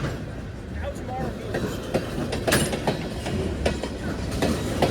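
A Union Pacific westbound freight train rolls past in Louisiana, its railcars clattering and wheels clacking steadily and close, with a constant rumble underneath while people talk over the noise.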